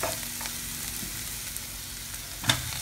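Tomatoes fry in a pan for Kashmiri dum aloo, giving a low, steady sizzle with a few faint stirring taps and one sharp clink near the end.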